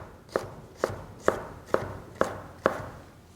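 A kitchen knife dices stacked vegetable strips on a cutting board with six sharp, evenly spaced chops, close and clear against a quiet room.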